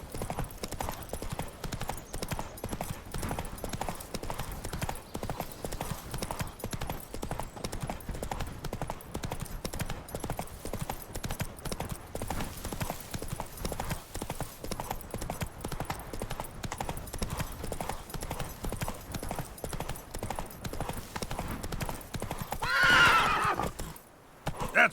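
Horse hooves galloping steadily in The Witcher 3 video game, a continuous rapid clip-clop rhythm at close range with occasional whinnies, running alone without talk and ending in a brief louder burst.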